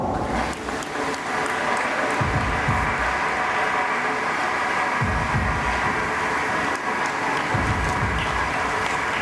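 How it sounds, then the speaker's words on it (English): Applause fills a hall at a school award ceremony, many hands clapping in a continuous broad wash over a low hum, with heavy low thumps recurring every few seconds. "With a huge round of applause."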